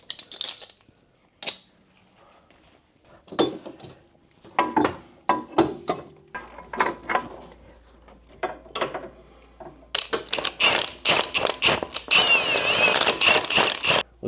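Wheel spacers and new bolts going onto a Porsche 996 911 Turbo hub: a series of sharp metallic clicks, ratcheting and clinks from hand tools and hardware, close by, growing busier and louder toward the end with a steady low hum underneath.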